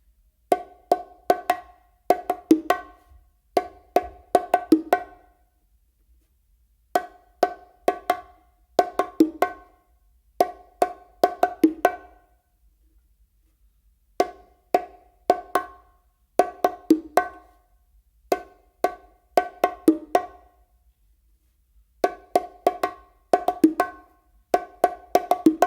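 Bongos play the Brazilia rhythm using only straight open tones, with no ghost notes: crisp, bright strikes fall in quick repeating clusters separated by short pauses, heard up close and alone.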